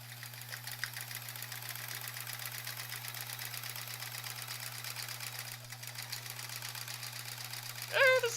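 A sewing machine stitches steadily and continuously for free motion quilting, a close, even mechanical whir with a constant low hum beneath and a brief knock near the end.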